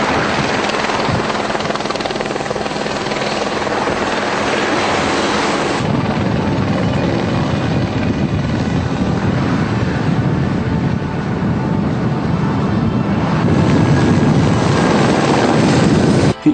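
A national gendarmerie helicopter flying forest patrol keeps up a loud, steady rotor and engine roar from start to finish, with wind rushing against the microphone and no voices.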